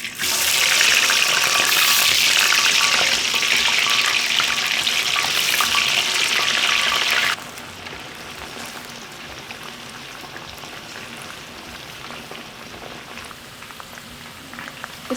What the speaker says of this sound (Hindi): पैन में कढ़ाई में घी गरम करें और चिप्स को इसके अंदर डालें